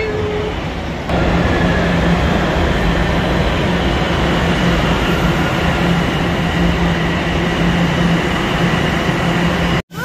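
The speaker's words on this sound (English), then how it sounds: "Ayan, naririnig ko na yung train." A subway train roars loudly and continuously through the station, a dense rumbling wash that cuts off abruptly at the end.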